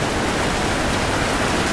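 Heavy afternoon rain falls in a steady, dense, loud hiss with no break and no other sounds on top.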